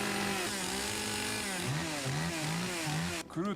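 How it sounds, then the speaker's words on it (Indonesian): A chainsaw engine roars in a tense drama scene, a loud, close rasping drone that revs up and down in repeated surges before cutting off abruptly near the end. "Iwao menyalakan gergaji mesinnya."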